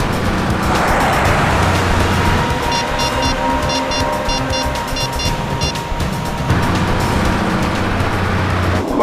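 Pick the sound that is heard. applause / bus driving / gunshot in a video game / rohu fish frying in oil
bus driving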